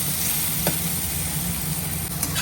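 Pointed gourd (potol) fries in a pan with a steady close hiss and sizzle, and a couple of faint soft knocks break the constant frying noise.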